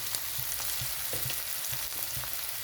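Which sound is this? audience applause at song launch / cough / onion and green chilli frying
onion and green chilli frying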